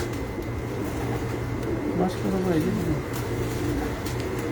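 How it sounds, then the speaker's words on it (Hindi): Pigeons coo softly on a rooftop loft amid steady background noise, with a voice speaking over the birds. "ये 3 कबूतर हैं जो 3 साल से उड़ रहे हैं"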